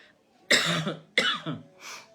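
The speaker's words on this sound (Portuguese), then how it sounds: "um pouquinho de tosse" Three harsh coughs in a row, the last one softer, close by and with no talking.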